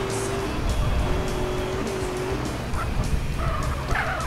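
A car in GTA San Andreas skids with drawn-out tire squeals over a steady engine drone, the screeches rising and falling across a few seconds as the vehicle slides around, close and fairly loud.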